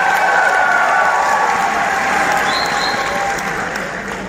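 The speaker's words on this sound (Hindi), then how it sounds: "अपने लिए भरपूर तालियां करते रहेंगे।" Audience applause at a humorous poetry session of the Bahawalpur Literary and Culture Festival: dense, sustained clapping from a crowd with faint cheering, steady and loud throughout before easing slightly at the end.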